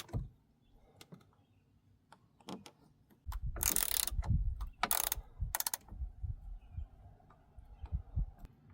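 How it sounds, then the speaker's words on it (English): Ratchet with a 10mm socket snugging side mirror bolts on a 1999–2002 Chevy Silverado: quiet, close ratcheting clicks in short bursts, with a couple of sharper clacks and handling noises in the middle. "Grab yourself a ratchet with your 10mm."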